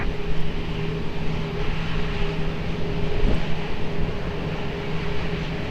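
A passenger airliner on approach to the runway at Lisbon Airport, heard as a steady, broad engine roar with a faint tonal hum, continuous and moderately distant throughout with no voices.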